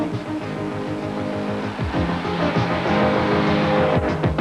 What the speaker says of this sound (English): When it's time to warm up the cars, Connie and Larry combine their experience t